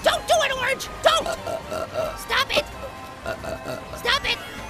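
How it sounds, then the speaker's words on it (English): A cartoon voice burps out a song in a series of short, pitched, melodic belches, repeated across the clip, with other speaking voices mixed in. "You wanted me to burp that song."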